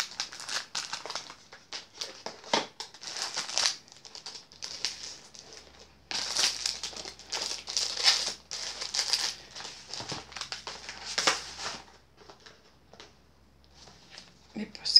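Paper and plastic packaging crinkles and rustles continuously up close as a prize is rewrapped, with busy, uneven handling and occasional louder crumples.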